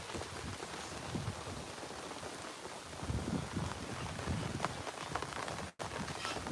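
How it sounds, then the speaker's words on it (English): Steady rain pours down outdoors, a dense broadband hiss of drops on surfaces that swells slightly partway through and continues without talk, with a brief dropout near the end. "here comes the rain"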